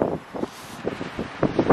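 Gusty wind outdoors during a visit to Finland buffets the microphone in rough bursts, rising and falling several times over a short stretch, with no one speaking.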